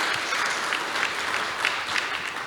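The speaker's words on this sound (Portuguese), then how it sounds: "Pedir uma salva de palmas a todos os nossos debatedores" An audience claps steadily for a panel of debaters at a public forum on downtown São Paulo, a dense, even wash of many hands with no voices over it.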